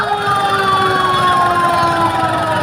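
Wailing fire engine sirens sweep up and down steadily over a rumbling street background in Tondo, Manila, during a house fire, loud and continuous, several sirens overlapping as they pass.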